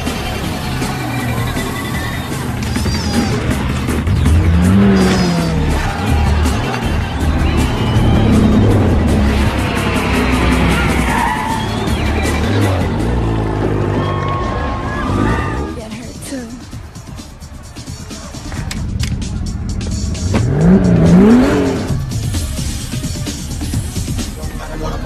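Street race cars in a film scene accelerate hard with engine roar and tire squeals and skids, loud and continuous, with a couple of sweeping pass-bys and talk over the action.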